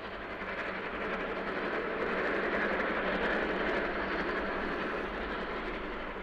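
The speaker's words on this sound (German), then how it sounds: "die Roco 44er zieht diesen Zug über das Viadukt" A Roco H0 scale BR 44 steam locomotive model hauls a very long twenty-wagon train over a viaduct on an 11 per mille incline, a steady, close, continuous rolling rumble and rail clatter that holds evenly throughout.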